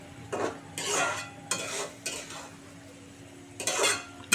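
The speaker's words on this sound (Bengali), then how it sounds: "এটাকে খুব সুন্দর করে এবার কষাবো আরও ভালো করে কষাবো" Pangas catfish and jackfruit curry being stirred and sautéed in a pan, with several bursts of spatula scraping and clinking against the metal over a low steady background.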